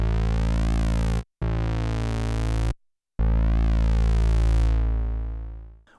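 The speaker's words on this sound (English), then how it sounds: "here is the main amp envelope, the AD. So it's basically an attack and decay envelope." An Arturia MiniBrute 2 analog synthesizer plays a sustained buzzy tone with a rich stack of harmonics, shaped by its attack-decay amp envelope; three loud held notes are split by short silences, and the last one fades out at the end.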